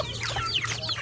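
Chickens clucking in a dense, continuous chorus, a flock close by with overlapping calls and steady low background hum.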